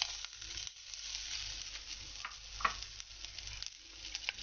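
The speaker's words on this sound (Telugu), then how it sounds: "ఈ పచ్చిమిరపకాయలు, ఈ కరివేపాకు, మనకి ఈ అల్లం ఉంది కదా, ఈ అల్లం దీంట్లో వేసేద్దాం" Green chillies, curry leaves and ginger sizzle in a hot pan, a steady close frying hiss with occasional pops and a stirring scrape, with no talk.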